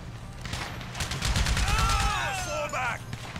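Gunfire in the video game GTA 5 crackles as a rapid burst of shots over a couple of seconds, fairly loud, with a sweeping whine of game effects layered on top.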